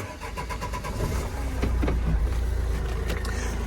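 A 2006 Opel Vivaro van with the 1.9 dCi diesel is cranked and fires up, the starter whir giving way to a rough, loud idle.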